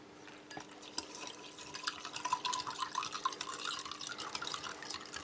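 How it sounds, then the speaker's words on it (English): Water poured onto coarse freeze-dried powder from an MRE ration, a faint trickling and dripping fill that grows a little busier midway, with soft clinks and no talk. "we'll top that up with some water to reconstitute it"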